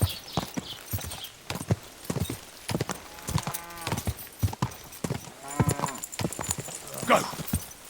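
Horse hooves clip-clop in steady rhythm in Kingdom Come Deliverance 2, close and fairly loud, with occasional snorts and brief voices breaking in over the gait.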